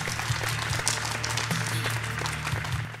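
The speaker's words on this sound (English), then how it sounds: "Come on, cheer him." An audience at a televised school math bee applauds a participant, steady dense clapping filling the room with a low hum underneath.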